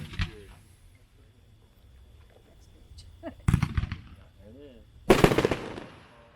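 A 34-shot 500 gram Fire and Fury fireworks cake at a fireworks demo, with sharp crackling bursts and rapid popping volleys in two loud clusters between quieter gaps, a voice speaking faintly in between.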